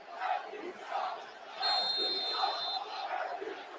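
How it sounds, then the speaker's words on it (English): Roaring football stadium crowd at a Raiders–Chiefs Monday Night Football game in Kansas City, a loud surging wall of cheers and whistles that swells in waves, with a shrill sustained tone piercing through midway. "Crowd going crazy."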